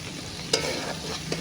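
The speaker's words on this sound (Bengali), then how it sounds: "আমি মশলাটা ভালোভাবে কষিয়ে নিচ্ছি।" Spice paste sautés in a hot pan with a soft, steady sizzle and two quick utensil clicks against the metal, close by and without speech.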